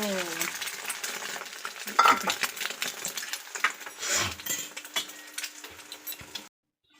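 Steady sizzling of egg toast frying in a pan, with scraping and stirring clatter throughout, cutting off abruptly near the end.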